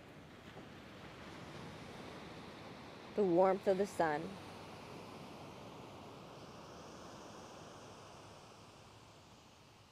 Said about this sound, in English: The quiet crash of the ocean surf.